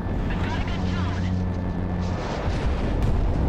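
Aircraft in the video game Project Wingman fire weapons wildly in a dense, continuous rumble of booming gunfire and engine roar, loud throughout, with a voice faintly beneath it.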